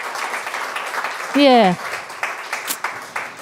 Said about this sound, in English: Why don't you all give them a round of applause?